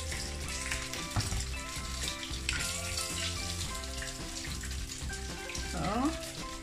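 Cheese dumplings for Kaspressknödel soup sizzle in hot oil, giving a steady, fairly loud crackle and spatter throughout, with some tonal background sound and no clear speech.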